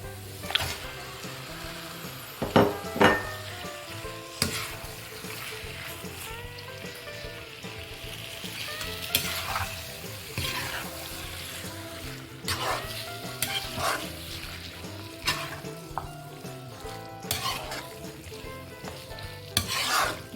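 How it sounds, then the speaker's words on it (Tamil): About a kilo of cut duck meat is stir-fried in sauce in a pan, a continuous sizzle broken by repeated spoon scrapes and knocks, close-up, with a faint dog bark in the background. "இந்த சோஸோடவே வந்து இந்த கறியும் சேர்ந்து பரட்டி விட்ருங்க"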